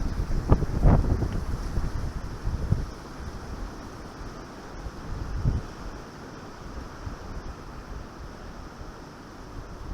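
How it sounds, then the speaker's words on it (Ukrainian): Strong wind buffets the microphone in gusty bursts while fishing outdoors, with a constant rushing roar and a few harder thumps near the start. "Я приїхав, був трохи менший вітер, а це геть розгулявся такий."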